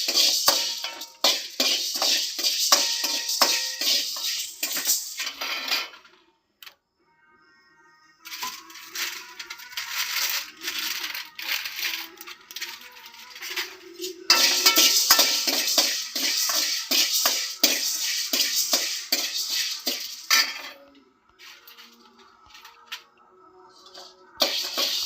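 Black peppercorns roasting in a pan are stirred in bursts, a busy rattle of hard little clicks and scrapes that pauses twice and then starts again.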